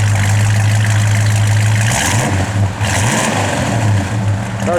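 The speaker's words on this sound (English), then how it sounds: "Car's got a good sound to it." A 1969 Plymouth GTX V8 runs close by with a steady low idle rumble that swells in a couple of short revs before settling back, loud and continuous with no talk over it.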